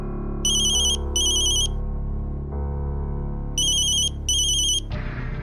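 A mobile phone ringtone plays in two bursts of repeated electronic tones over a steady droning background score, the ringing loud and close, with no voices.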